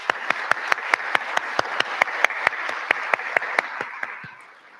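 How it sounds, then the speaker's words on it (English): A single pair of hands clapping in an even, steady rhythm, about twenty sharp claps, close and distinct, fading at the end, as applause for students at an evening event. "let's give them another round of applause"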